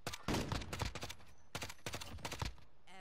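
Rapid bursts of gunfire from a Modern Warfare multiplayer match, likely a 5.56 assault rifle, in several loud clusters with short pauses between them and no talk.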